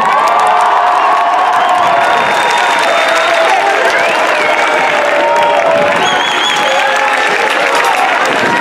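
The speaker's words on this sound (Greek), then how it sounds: "Θέλω ένα τεράστιο χειροκρότημα" A large outdoor concert crowd at Moni Lazariston in Thessaloniki applauds and cheers loudly and continuously, with whoops and shouts rising over dense clapping.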